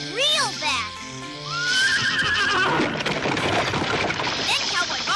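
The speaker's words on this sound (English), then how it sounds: "That's where the snake jumps out, like this. And that scares the bad guy's horse real bad." A cartoon horse whinnies loudly in a shrill, rising-and-falling neigh, then a frantic burst of music and sound effects follows as a character's voice is heard over the commotion.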